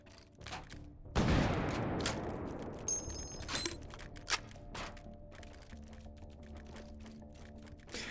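Explosive rounds fired in H3VR, a VR shooting game: one loud blast with a long decaying wash of noise, followed by a scatter of sharper, fainter pops and clicks spaced out over the rest of the moment.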